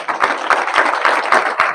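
An audience at an education and leadership congress claps to welcome a speaker, a brief burst of steady, rhythmic group clapping, loud and close.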